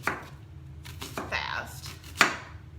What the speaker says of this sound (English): You just slice this onion into slices.